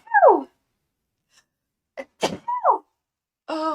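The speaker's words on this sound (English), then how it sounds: "I've been sneezing a lot today." A single sharp, loud sneeze bursts out close up between brief silences, surrounded by a few short breathy vocal sounds and a hum-like voiced tone.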